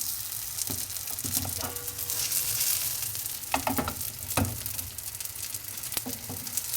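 Food fries in a hot, lidded pan, giving a steady crackling sizzle with a few sharp pops and light clinks from stirring or handling the pan.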